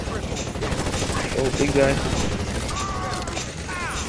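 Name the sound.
gunfire in a video game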